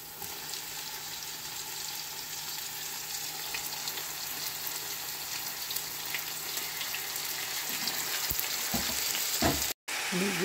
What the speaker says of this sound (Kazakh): Етіміз қуырылып жатыр.